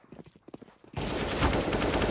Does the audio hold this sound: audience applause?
no